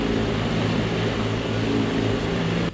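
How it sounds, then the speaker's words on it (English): A steady, constant engine drone with a low rumble, like a motorbike running continuously at close range without pause. "so I've got constant motorbike sound over the top of it."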